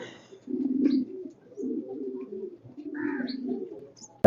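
Soft, low coos from a young pigeon repeat in several rolling phrases, close by, with a few faint chirps and a brief knock at the end.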